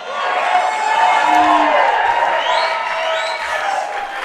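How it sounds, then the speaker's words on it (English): A large crowd cheers loudly and continuously, a thick, sustained roar of voices and whoops that holds steady throughout, with someone speaking nearby over the din. "They're cheering for me."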